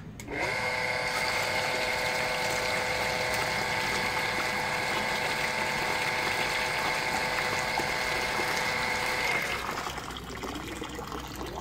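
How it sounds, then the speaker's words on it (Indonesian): A water pump switched on and running: a steady mechanical whine with a constant tonal hum holds loud for about nine seconds, then drops off as it stops. "Kita nyalakan pompa ya."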